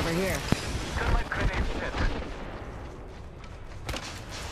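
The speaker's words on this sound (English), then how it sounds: "Shots fired at me" Apex Legends battle royale gunfire crackles in short sharp bursts amid a dense, rumbling game soundscape, with a voice talking over the action.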